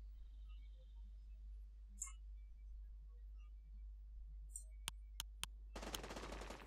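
Gunfire in the survival game SCUM, three sharp distant shots in quick succession followed by a burst of rapid automatic fire over a low steady engine-like hum, no talk.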